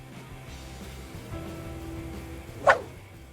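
A single short dog bark stands out near the end, over a low murmur of background noise.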